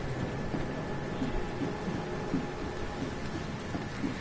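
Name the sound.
heavy rain in the video game The Sinking City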